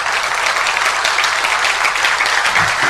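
A church congregation claps together in a continuous, loud, even wash of applause that carries through the whole moment without any talking over it.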